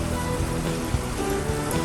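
Water pours and splashes into the metal water pan at the bottom of a RedBox smoker, a steady close-up rushing trickle with a few brief clunks.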